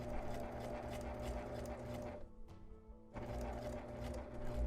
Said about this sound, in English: I'm going to top stitch down this bottom edge onto the front of the mask